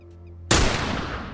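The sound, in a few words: sniper rifle shot in video game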